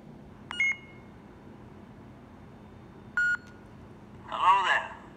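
A Korbanth Sithplanet K4 lightsaber hilt changing sound fonts gives two separate short electronic beeps, each a bright tone about a quarter second long, a few seconds apart, followed by a brief voice clip.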